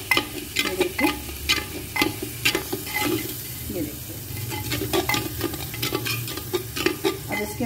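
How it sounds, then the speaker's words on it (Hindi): A spoon stirs spiced vegetable curry of stalks, mashed tomato and green chilli in a handi pot, giving repeated scraping and clinking strokes over a steady sizzle of frying, close and continuous. "तो हम अच्छे से हिला लेंगे,"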